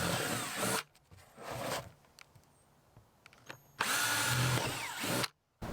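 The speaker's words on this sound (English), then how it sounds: "we're gonna drill one hole in the bottom of the bucket, and then we're gonna drill 6 holes around the outside edge" A power drill bores holes in a plastic bucket in two loud, close bursts of whirring and grinding, separated by a quieter pause with small handling clicks.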